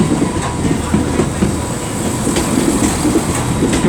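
A Class 385 electric train departs Edinburgh Waverley station, a close, loud rolling rumble with rhythmic wheel clicks over rail joints running continuously throughout.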